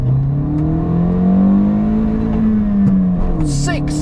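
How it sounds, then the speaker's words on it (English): A Toyota Yaris T Sport with a 105 hp naturally aspirated engine revs steadily on the Nürburgring, its tone rising and then easing back inside the cabin, with brief tyre or wind noise near the end. "105 naturally aspirated horsepower"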